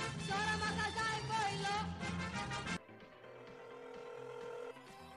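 A telephone rings during a church Scripture skit, its steady tone coming after louder music and voices cut off, fairly clear and close for a couple of seconds.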